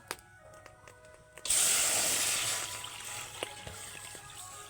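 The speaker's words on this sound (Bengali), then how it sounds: "কড়াইতে জল দিয়ে দেবো" Water pours into a kadai for boiling mango, a sudden rushing, splashing stream that begins partway through and continues at a steady level close by.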